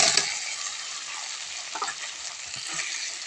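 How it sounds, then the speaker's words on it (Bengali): Fried potatoes are stir-fried into a spice masala in a pan, a steady loud sizzle with scraping stirring strokes throughout, no voices. "ভেজে রাখা আলুটা দিয়ে মশলার সাথে ভালো করে কষিয়ে নেব।"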